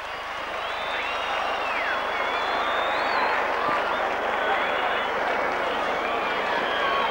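Rugby league crowd at a Wigan versus Oldham match roars and applauds after a Wigan try scored under the posts, a dense, sustained wall of cheering and clapping with whistles rising above it.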